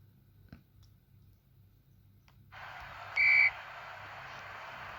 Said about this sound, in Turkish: Çal düdüğü hakem.